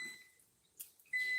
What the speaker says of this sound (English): That's my timer for the garden sprinkler.